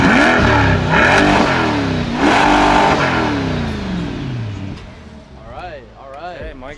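A tuned 600-horsepower American muscle car engine revving hard, with a few loud rising and falling roars up close, then fading to lower throttle blips while people talk.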